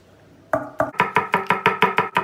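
A knife finely chops peppers on a cutting board, about ten sharp, evenly spaced strikes close up.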